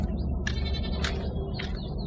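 Tethered goats bleating in the hot sun, a few short cries over a constant low rumble of background noise, moderately near.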